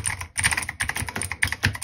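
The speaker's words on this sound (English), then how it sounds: "This is a custom keyboard from Temu.com." Rapid typing on an inexpensive $18 custom keyboard, a busy stream of close, clacky, slightly hollow keystrokes with uneven rhythm and no voices.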